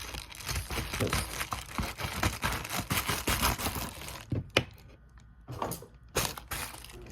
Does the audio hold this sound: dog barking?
no